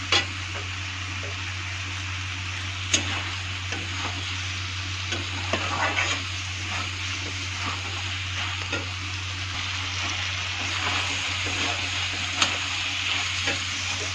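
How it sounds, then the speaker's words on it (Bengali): Spinach and cabbage leaves frying in a pan, a loud continuous sizzle broken by light scraping stirs and occasional spatula knocks against the pan, with no voices. "এখন আমি একটু ভাজা ভাজা করে নেব ভালো করে। পালং শাকটা একটু যেন ভাজা ভাজা হয়।"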